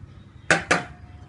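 Two quick metallic clinks of a utensil striking a pan while a custard of cornflour and egg yolk is stirred, close and sharp against a quiet background.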